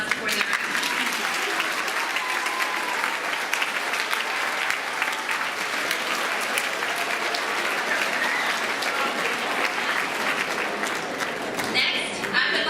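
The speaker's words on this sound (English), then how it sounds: "Please join me in a round of applause for their efforts." Steady audience applause at a middle school NASA live stream event, a dense, even wash of clapping sustained for about twelve seconds before tapering at the very end.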